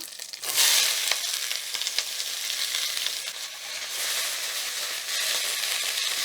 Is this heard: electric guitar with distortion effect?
no